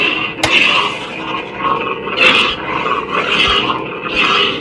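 An Ultrasabers Graflex Proffie Neopixel lightsaber runs a loud, steady electronic hum with swelling swooshes and a sharp crackling clash near the start, played close from its built-in speaker without any talking.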